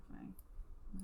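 A computer mouse gives two short, faint clicks about half a second apart, over a quiet room with a soft voice murmuring in the background.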